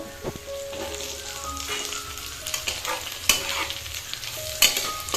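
Potatoes fry in a covered pan, giving a steady sizzle with scattered pops and clinks throughout. It stays close and even, with no voices.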